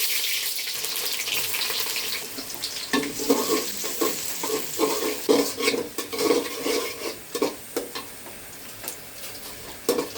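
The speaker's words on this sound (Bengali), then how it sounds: "পেঁয়াজটাকে আমি বাদামি কালার করে নেবো" Onion frying in oil with three dried chillies and three bay leaves, a sizzle that grows busier as a spoon stirs with uneven scraping and clattering strokes in the pan, close by and with no talking.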